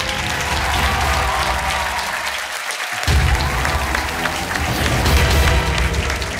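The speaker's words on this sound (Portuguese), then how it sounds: "O vosso aplauso para o António Antunes" Studio audience on a quiz show applauding a contestant, a loud, dense roar of clapping from a large crowd with light cheering, swelling slightly midway and continuing strongly.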